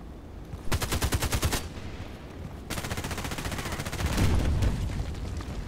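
Pistol fire in a shooter video game rings out in rapid bursts: a quick volley, a brief pause, then a longer sustained run of sharp, loud shots.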